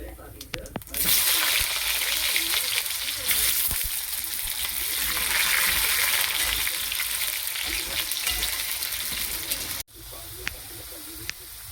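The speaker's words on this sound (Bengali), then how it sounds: "আলুটা দিয়ে দিচ্ছি, আলুটা দিয়ে ভেজে নেব" Potatoes hit hot mustard oil with cumin seeds and set off a loud, dense, continuous sizzle. It starts abruptly after a second, stays close and strong, and drops out briefly near the end before resuming.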